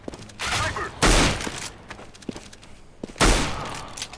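Gunfire from Counter-Strike: Global Offensive, with several sharp broadband bursts: a cluster near the start, a loud blast at one second and another heavy shot past three seconds, with scattered quieter clicks between.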